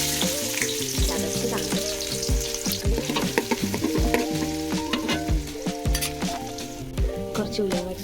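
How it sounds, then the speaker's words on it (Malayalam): Ginger garlic paste sizzles and fries in a pan as the base for a chicken curry, with steady crackling, frequent stirring scrapes and light clinks of a utensil against the pan while a person speaks briefly. "ഇനി അടുപ്പത്തേക്ക് നമുക്ക് ചിക്കൻ കറി വയ്ക്കാം. ഇനി ഇഞ്ചി വെളുത്തുള്ളി പേസ്റ്റ്"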